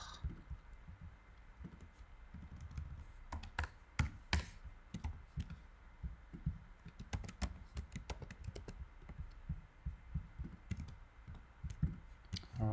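Computer keyboard typing during a Rust coding session, with quick irregular bursts of clicky keystrokes and occasional louder taps, close and fairly quiet, with no talking.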